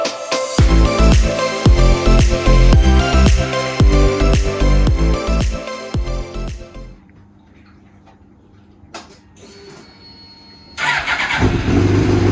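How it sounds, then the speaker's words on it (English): A race car engine roars loudly at close range with sharp rhythmic revving, cuts out to near quiet, then a starter whirs and the engine fires again into a loud run. "managed to get the engine running"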